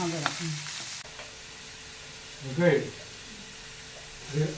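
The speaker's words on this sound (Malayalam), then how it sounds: "സവാളയും തക്കാളിയും വഴറ്റി ഞാൻ ഇടാം" Onions and tomatoes sauté in a pan for a simple chicken roast, giving a low sizzle with two short bursts of stirring and scraping, close by.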